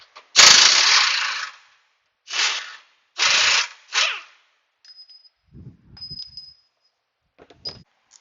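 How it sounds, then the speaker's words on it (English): Ratchet wrench loosening 19 mm lower control arm bolts on a 2005 Honda: several loud bursts of rapid clicking, one long and three short, followed by quieter clinks and taps of the tool. "Going right after those 19 mil bolts on the lower control arm."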